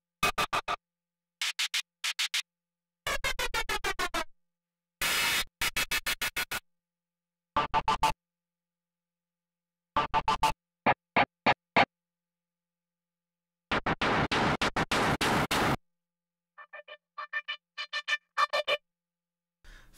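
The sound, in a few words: broken synthesizer patch sounds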